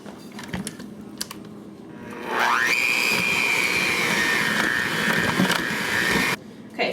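An electric mixer whirs up to speed and runs steadily through vegan chocolate chip cookie cake batter with rice milk, a loud close motor whine that cuts off near the end, after some faint kitchen clatter.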